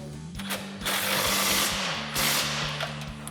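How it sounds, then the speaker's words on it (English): A ratchet wrench with a 21mm socket clicks rapidly as control arm pivot bolts are tightened on a Jeep Wrangler JL, with close, steady pawl ratcheting that comes in bursts between short pauses. "We're just gonna tighten up our pivot points on our control arms."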